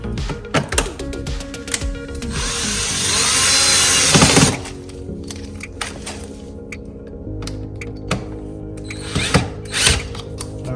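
Power drill driving screws into the side skirt of a 2021-2022 Honda Accord, short whirring bursts with one longer sustained run, alongside clicks and handling clatter of parts close up.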